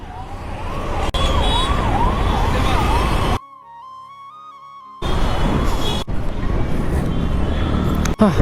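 An ambulance siren wails, cycling up and down over road noise in Bengaluru traffic, cut briefly by a quieter stretch with a steady tone, then traffic noise returns.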